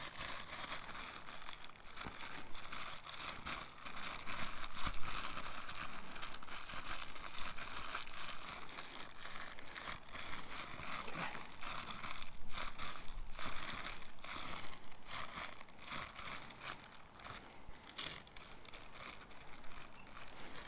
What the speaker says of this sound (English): grab one of these absorbent paper towels and put it in, and that'll just help get rid of some of the excess